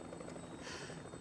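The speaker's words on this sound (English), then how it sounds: "hey, man, you're flying a helicopter" Helicopter in Resident Evil: The Umbrella Chronicles, a steady rotor and engine drone filling the short stretch at constant loudness, with a thin high whine running through it and no talk.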